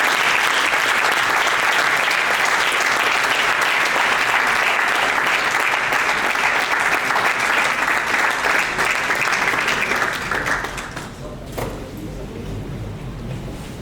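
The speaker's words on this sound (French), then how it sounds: "Sous vos applaudissements, s'il vous plaît." A large audience at an eloquence contest semi-final in a hotel breaks into dense, loud, sustained applause that fades toward the end as a few voices murmur.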